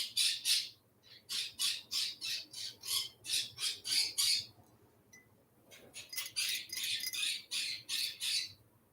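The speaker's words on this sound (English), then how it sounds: "My bird is yelling in the background, even though I just hung out with him." A pet bird squawks and yells in rapid rhythmic bursts, a long run of harsh calls, a short pause, then another run, moderately faint as if from another part of the room.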